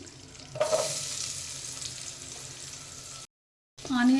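Onions sizzle and fry in melted butter and oil for a rajma curry, a steady hissing crackle with stirring, briefly cutting out, then a sharp fresh sizzle as more goes into the pan.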